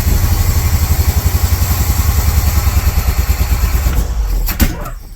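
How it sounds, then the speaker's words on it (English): A 1982 Chevy K10 engine that has sat for years runs rough on about half its cylinders with a plow attached, pulsing in an uneven loping rhythm up close before cutting out near the end. "We're running on like half the engine."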